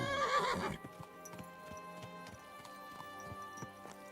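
A horse in Kingdom Come: Deliverance II gives a loud neigh up close, then its hooves clip-clop in a steady walking rhythm.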